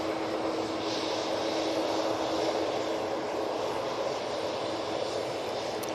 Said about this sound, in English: You can hear a prop making its way over to us.